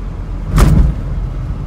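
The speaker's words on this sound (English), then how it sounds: "We're gonna hit that bump, so I'll be quiet so you can hear how nice it is." A 1972 Lancia Fulvia passes over a road bump, giving one short, dull thump over steady engine and road rumble from inside the car.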